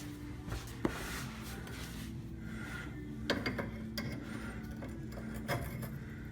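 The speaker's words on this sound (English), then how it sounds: "I'm just using a ratchet wrench here to make it a little easier." A ratchet wrench loosens a bolt on a '94-'02 Dodge Ram power steering gear box, producing scraping, rubbing clicks with a few sharper knocks, close and moderate in level, with no talk.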